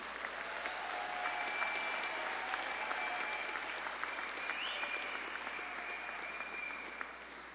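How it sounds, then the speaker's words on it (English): Steady, full applause from the audience at the Elmore Stoutt High School graduation ceremony for the class of 2026, sustained evenly throughout with a faint tone ringing over the crowd. "I want you to help me congratulate the class of 2026 with a round of applause."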